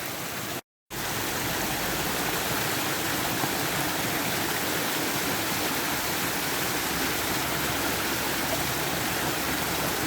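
Spring water at a Vaucluse spring near Mont Ventoux rushes in a steady, loud broadband roar that runs continuously, broken only by a brief cut near the start, with no voices.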